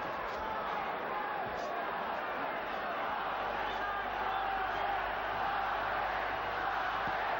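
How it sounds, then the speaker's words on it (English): Large boxing arena crowd during the Julio Cesar Chavez vs Oscar de la Hoya fight, a steady dense roar of voices chanting and cheering without letup, loud and continuous throughout. "Crowd chanting Chavez, Chavez."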